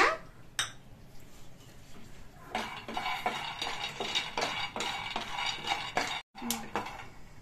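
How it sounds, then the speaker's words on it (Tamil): Peanuts rattle and scrape across a hot tawa as a spatula stirs them during dry roasting for a Shivratri offering, a series of quick metallic clinks and shuffles in an uneven rhythm, close up. "இப்போ வந்து கடலக்கொட்டை போட்டு நல்லா வறுத்து எடுத்துக்கலாம்"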